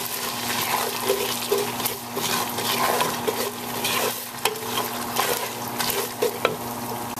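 Masala is stirred into pulao in a hot pan, giving a steady soft sizzle with scraping, shuffling stir strokes throughout. The sound is close and moderate in level, and there is no talk.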